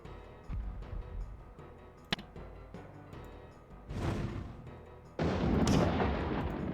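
Cannon fire in a Warhammer battle: distant booms and thuds thump across the field, one sharp crack standing out, then swelling blasts and rumbling explosions toward the end.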